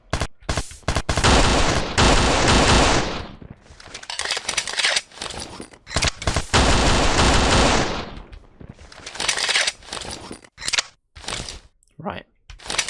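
Gunfire rings out in a first-person shooter gunfight from the game Kshatriya: Prologue, with loud rapid bursts of automatic fire and single shots broken by brief gaps. Someone talks between and over the volleys.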